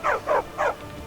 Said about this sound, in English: Is that a hostile wolf, or... That's a dog.